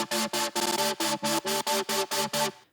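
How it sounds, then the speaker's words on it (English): Synth supersaw chords built from a sample used as a wavetable play in a UK drill section, pulsing in about ten short, evenly chopped stabs, bright and loud, with no talking. "we also have this part where we have like super saws playing,"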